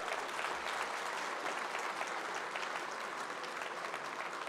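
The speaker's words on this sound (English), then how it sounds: "I want the adults now to put their hands together and clap the young people here today" Adult audience applauding young people at a Tibetan Uprising Day gathering, a dense, steady wash of many hands clapping that holds evenly throughout without talk.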